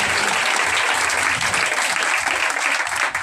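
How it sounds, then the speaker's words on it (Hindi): A church congregation applauding a newly married couple, loud sustained clapping from a large crowd filling the whole stretch, with no speech on top. "मैं चाहता हूँ जोरदार तालियां नए जोड़े के लिए।"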